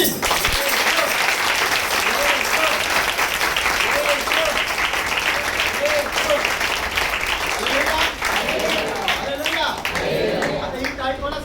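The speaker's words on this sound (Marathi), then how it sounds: "सगळ्यांनी एकत्र मोठ्याने हात उंचावून टाळी वाजली पाहिजे" A church congregation claps loudly all together on a count, a dense, sustained burst of applause that fills the whole stretch and only thins slightly toward the end, with faint voices underneath.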